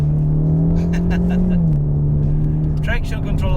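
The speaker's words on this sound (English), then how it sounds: "now let's start to push and play with the Mustang" A Ford Mustang EcoBoost accelerates hard along a wide road, its engine holding a loud, steady drone that dips and shifts pitch midway, heard close and continuous under the cabin.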